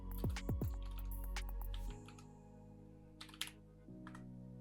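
Typing on a computer keyboard while designing a logo from a random brief: a few soft clicks near the mic, partly buried under music with swooping tones and a steady low hum.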